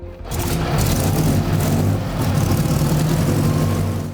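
A restored 1924 Mercedes Targa Florio with a supercharged compressor engine runs loud and close, a dense, rough, continuous roar that rises and holds steady with a slight surge midway.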